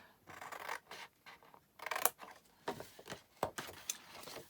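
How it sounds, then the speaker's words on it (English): Scissors snip through a paper envelope flap, giving a run of short crisp cuts and rasping paper scrapes, close and fairly quiet, with no talking. "I'm going to cut this flap off."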